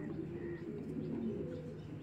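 An old-breed racing pigeon coos close by, a soft, low throaty warble repeating steadily over a short stretch.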